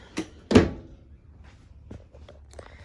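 A drawer in the kitchen of a 2017 Merhow four-horse living-quarters trailer opens and shuts, giving two sharp knocks close by, followed by quieter taps and rattles.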